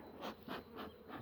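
Faint, soft buzzing of honeybees from a very small, weak hive colony, swelling and fading in four gentle pulses with no talk.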